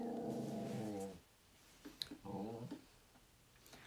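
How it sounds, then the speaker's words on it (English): A small dog growling at home, a long low snarl followed by a shorter rumbling growl after a brief pause, close and fairly quiet. "She wants to bark at something. There's nothing to growl and bark at, okay?"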